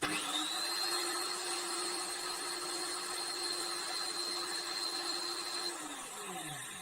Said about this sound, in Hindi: दोबारा मैं इसको चालू करता हूं, आप देखना करंट ज्यादा होने के बाद लैंप और ड्रिल मशीन ऑटोमेटिकली बंद हो जाएगा।